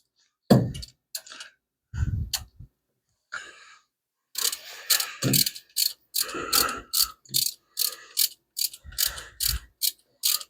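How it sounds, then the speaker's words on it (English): Socket on a torque wrench tightens engine bolts, with scattered clicks and clunks of fitting the socket followed by a steady run of quick ratcheting bursts, close and crisp, with no talking. "Still got the torque wrench set up for the other side, so I'll just throw the socket on there and we'll torque these up quick"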